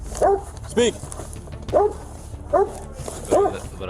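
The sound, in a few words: police K9 dog barking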